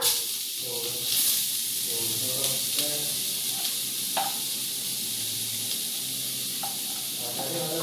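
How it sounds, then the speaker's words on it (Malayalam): Beetroot frying in butter in a pan, a constant close sizzle and hiss with occasional stirring clicks and scrapes, no talking. "നമ്മൾ ബാക്കിയുള്ള ബട്ടറും കൂടി ഇതിലേക്ക് ചേർത്ത് കൊടുക്കാം. അതിലേക്ക് ബീട്രൂട്ട് ഇട്ട് കൊടുക്കാം."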